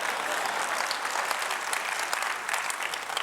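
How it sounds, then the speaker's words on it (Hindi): An audience at an Indian political event with Anupam Kher and Rekha Gupta claps on cue, a brief burst of dense, even applause filling the hall. "इसका मतलब आपको ताली मारनी है"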